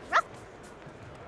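A puppy in an animated basketball-themed children's show gives one short, high yip near the start, followed by a faint, quiet background.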